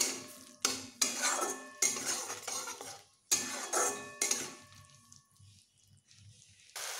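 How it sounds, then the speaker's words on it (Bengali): Spices with cumin powder stirred in a pan, heard as close bursts of scraping and clinking as a utensil works against the metal, separated by short quiet gaps, with only a faint sizzle between and no speech. "এবার সব মিশিয়ে আমি ভালোভাবে মশলাগুলোকে কষিয়ে নেব"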